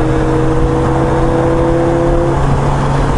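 A car accelerates in a steady, loud engine whir with a constant droning tone held close throughout, and no voices.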